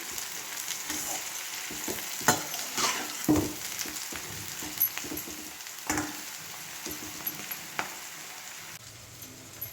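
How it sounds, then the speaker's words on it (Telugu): Half-fried bitter gourd crackles in a pan with a constant gentle sizzle, while scattered scrapes and taps from stirring come through close by, with no talking. "ఇప్పుడు ఇది సగం ఫ్రై అయిందండి"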